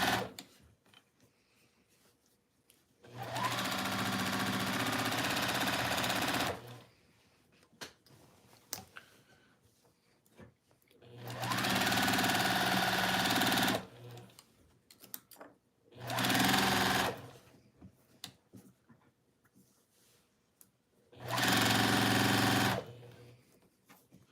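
A sewing machine stitches a quilt in four steady runs of several seconds each, a fast even whir separated by quiet pauses, close and clear.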